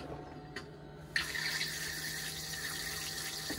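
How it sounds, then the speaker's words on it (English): Water rushes steadily into the bowl of a Thetford cassette toilet in a 2021 Coachman VIP caravan, starting abruptly after a brief click and continuing as an even, close flushing hiss. "you flush it by pressing that blue button in."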